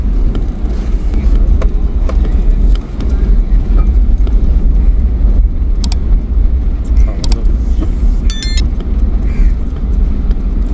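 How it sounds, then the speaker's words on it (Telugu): Continuous heavy road noise from lorries passing nearby on the Kolkata–Chennai highway, a deep steady roar with brief dips and occasional clicks and rattles. "లారీస్ అవన్నీ వెళ్తున్నాయి"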